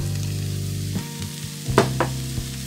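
Turkey bacon and sausage frying with cabbage, a moderate sizzle under low hum with a few scraping stir knocks near the end, no speech.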